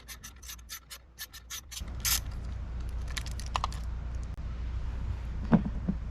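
A ratchet backing out 10mm nuts on a roof light bar mount of a 2022 Ford Bronco Raptor, a quick series of close, crisp clicks followed by scattered metallic turning and clicking over a low steady background hum.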